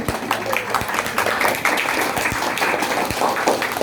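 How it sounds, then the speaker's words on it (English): Audience clapping at a school farewell event, a sustained mix of many hands with distinct sharp individual claps standing out, fairly loud and close, with some voices mixed in. "So give a big clap for the persons who are 14 years."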